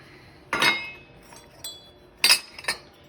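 Someone handles a cheap zinc faucet with an aluminum part instead of brass, producing a few sharp metallic clinks and knocks spaced apart over a quiet background.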